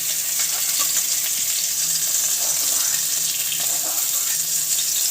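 Pieces of pointed gourd (parwal) fry in oil in a kadai with a loud, even, close sizzle that holds steady throughout, with light bubbling crackle.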